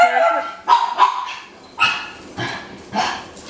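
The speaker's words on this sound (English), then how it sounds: "There's 4 dogs in this house right now and it's too many." Several dogs bark in a house in short repeated bursts, fairly close, with yips and a whimper mixed in and a voice talking between them.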